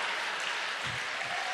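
A crowd at a Swordfish 2016 fencing tournament gives a standing ovation, steady dense applause filling the whole moment without pause.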